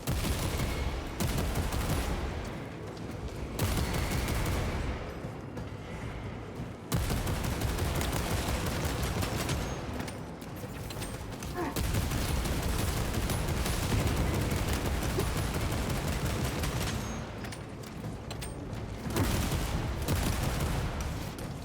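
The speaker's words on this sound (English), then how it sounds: "Alright, dude, stop shooting at me, you little bastards" Dense enemy gunfire roars almost continuously in Warhammer 40,000: Space Marine 2, heavy volleys and booms with brief lulls, loud and close throughout.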